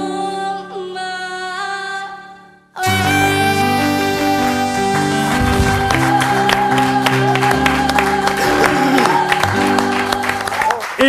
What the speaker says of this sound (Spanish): Sí, señor, fort aplaudiment.